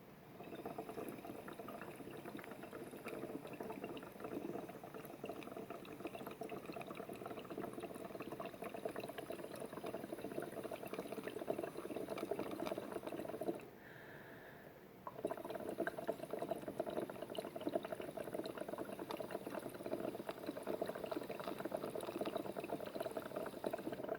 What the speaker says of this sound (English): I'm going to blow my breath into the water